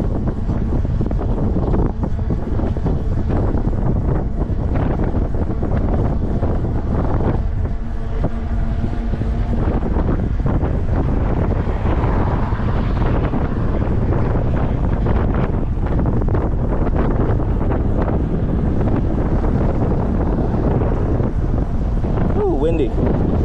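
Wind buffets the microphone of a Starrun S20 52V e-bike while it rides outdoors, a loud, constant low roar throughout with brief changes in texture.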